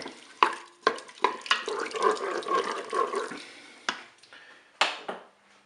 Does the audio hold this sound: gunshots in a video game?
no